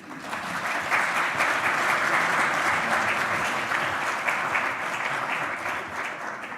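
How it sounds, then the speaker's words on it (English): An audience at a training workshop gives steady, dense applause that holds full and even throughout, with many hands clapping together in a room and no voices on top. "Give him a warm applause."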